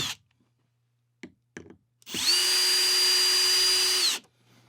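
A power drill drives screws into a wall cleat for an acoustic sound panel, giving a steady whine of about two seconds after a few light knocks, close and loud, then stopping abruptly.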